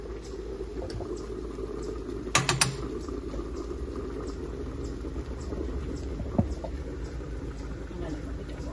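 Caribbean curry shrimp with string beans and a little water simmering in a pot, a steady low bubbling and hiss throughout, with a few brief metallic clinks near the middle.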